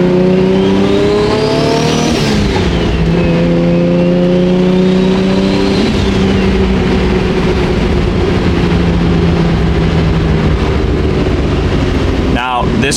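A tuned 1999 Nissan Skyline R34 GT-R V-spec on a full Haltech setup driving through Los Angeles streets, its engine loud and close with rising revs and gear shifts, a droning exhaust note and a turbo whistle climbing over it.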